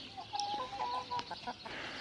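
Chickens and roosters in a farmyard flock give short clucks and murmuring calls close by, a few overlapping voices over soft background noise, with no talk.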